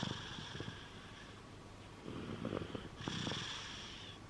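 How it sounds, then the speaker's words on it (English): A sleeping baby girl snores softly, slow faint breaths rising and falling close by in a quiet room. "A little sleepy head snoring away."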